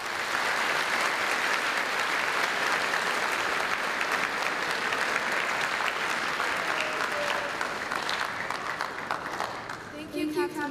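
Audience at a high school Veterans Day program giving a long, steady round of applause that thins slightly toward the end, where a voice begins over the last claps.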